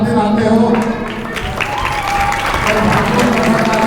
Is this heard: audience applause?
yes